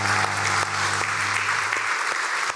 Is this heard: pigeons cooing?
no